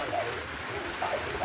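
Light steady rain patters outdoors at a temple in Nepal, a soft continuous hiss with faint bird calls.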